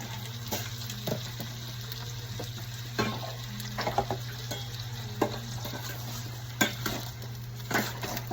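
A spoon stirs chicken tinola in a pot with a soft simmer underneath, giving repeated scraping and clinking strokes against the pot at an uneven pace, close and moderately quiet with no talk.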